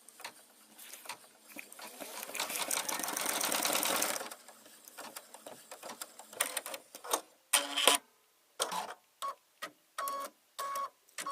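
A sewing machine that trims its own threads stitches with a second thread colour: one long rapid run of clattering stitches, then a series of short, separate bursts of stitching with pauses between them.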